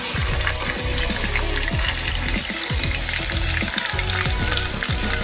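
Turkey wings with ginger frying in a pan, a loud, dense sizzle and crackle running steadily throughout, close up, with occasional knocks.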